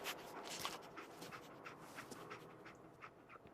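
Dogmeat, the dog companion in Fallout 4, whimpers and pants softly, with faint breathy, scratchy sounds coming in short uneven bursts at a quiet level.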